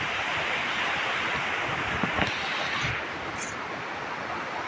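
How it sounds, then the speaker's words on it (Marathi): Flowing, falling water at an outdoor spot where clothes are being dried, heard as a steady, broad rushing wash close by, continuous and fairly loud, with no talking over it. "आवाज येतोय ना तो पाण्याचाच आवाज येतो"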